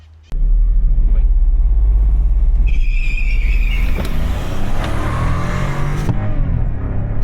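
A VW Virtus 1.0 200 TSI with 128 hp, running on ethanol, accelerates hard with a sudden loud, close engine roar that holds steady and strains upward in pitch, a brief squeal riding on top.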